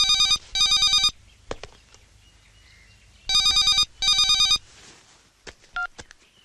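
Telephone ringing during a call in a Telugu film scene: two bursts of a bright electronic ring, each a double pulse, separated by a quieter gap with faint clicks and short chirpy sounds.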